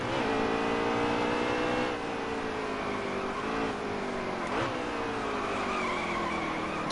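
Race car engine in NASCAR Heat 3 on the Charlotte Roval, a steady loud engine drone with pitch sweeps through gear changes and a brief tyre skid near the end.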